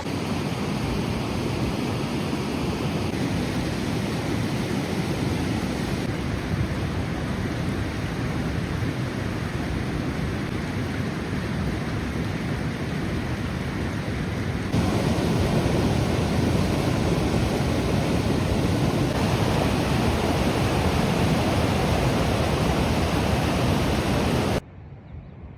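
Glacier meltwater river in Stak Valley, Skardu, rushing steadily in a loud, continuous broadband roar close by, with no voices and only slight shifts in intensity before cutting off near the end.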